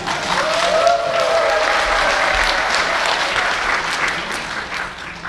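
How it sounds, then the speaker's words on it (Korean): Applause fills a hall at a Korean policy forum ahead of a parliamentary audit, even continuous clapping from the audience that tapers slightly in the last second. "박수 소리가 작아서 도로 내려가야 될 것 같아요."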